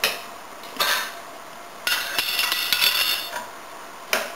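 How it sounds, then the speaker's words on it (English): Chopped green onions stirred into sauce in a pan with the heat off: sharp clinks and scrapes of a utensil against the pan in a few separate bursts, close and fairly loud, with no voices. "Stir those in, and your sauce is ready to go."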